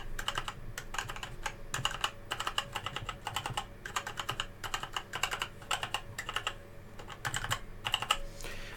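Rapid, fairly muted, dampened clacking of a Genesis Thor 100 RGB mechanical keypad being typed on, in irregular bursts with short pauses, close and steady throughout.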